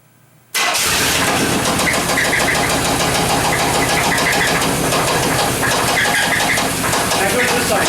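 Chevrolet Suburban engine with a knock and rattle cranks and fires after a moment of quiet, then keeps running loud and close with a steady rattling idle.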